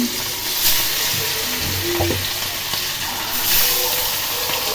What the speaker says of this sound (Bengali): মাছ ভাজতেছি